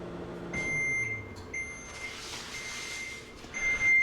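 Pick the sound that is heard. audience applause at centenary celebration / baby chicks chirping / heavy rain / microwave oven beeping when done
microwave oven beeping when done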